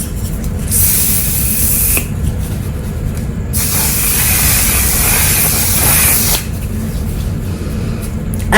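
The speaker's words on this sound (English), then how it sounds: "I can spray that much because you don't even feel it" Makeup setting spray hisses in two long bursts from close by, the first brief and the second several seconds long, with no talking.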